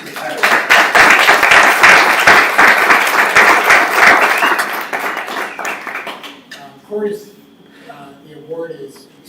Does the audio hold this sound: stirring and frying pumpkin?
no